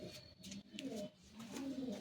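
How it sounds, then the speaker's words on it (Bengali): Pigeons of a pure 8-7 line cooing softly nearby, low throaty coos rising and falling in a few repeated phrases over a quiet background. "তো এই আরেক জোড়া পিওর 8-7 লাইনের পায়রা আছে দেখুন"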